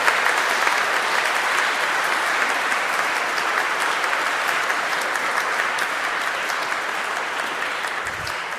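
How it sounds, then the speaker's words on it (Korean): A large congregation applauds to welcome new priests at a Catholic ordination anniversary celebration, a long sustained wash of clapping from many hands, steady and full from start to finish. "큰 박수로 새 사제들을 맞이해 주십시오."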